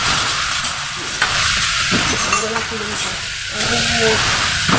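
Bitter gourd stir-fries in a hot pan, giving a steady loud sizzle with scraping stirring strokes throughout, while a person talks over it.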